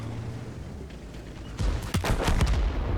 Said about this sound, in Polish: No tego się nie spodziewałem, że magazyn dostanę i wybuchnę